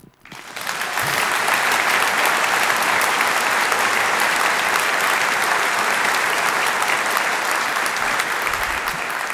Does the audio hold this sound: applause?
yes